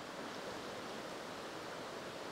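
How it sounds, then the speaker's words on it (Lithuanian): A flooded river rushing near a forest camp, a dense, even roar of water with no breaks and no talk. "O vanduo visur šniokščia."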